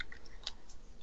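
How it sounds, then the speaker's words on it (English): Crunchy salty snacks being chewed close to the mic during a casual hangout, a quiet series of soft crackly crunches over about a second with no talking. "Enjoy the sound of May crunching"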